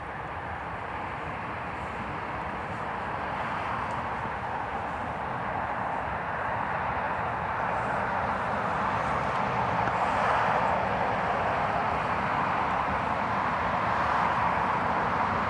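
A jet airliner roars at Newcastle International Airport during a departure, a broad, steady rumble from a distance that grows gradually louder over about fifteen seconds, with no voices.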